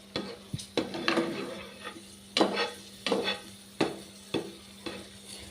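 Semiya payasam ingredients are stirred and roasted in ghee in a pan, with a spoon repeatedly scraping and clinking against the metal in irregular strokes over a faint steady sizzle, close up and with no talking.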